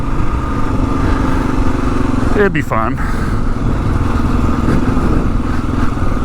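A 2022 Kawasaki KLR 650 dual sport motorcycle rides along with a steady, smooth engine drone at moderate RPM, with someone talking briefly over it.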